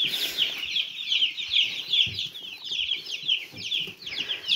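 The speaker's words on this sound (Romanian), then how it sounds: "Sunt 51 de pui, 52 mai este și cel de porumbel." A crowd of young chicks, a mixed batch of three breeds, peeps constantly in shrill, overlapping chirps close by, with soft scratching and rustling underneath.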